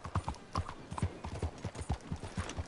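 A horse in Red Dead Redemption 2 trots along with steady, rhythmic clip-clop hoofbeats, close and moderately loud, with faint background game ambience.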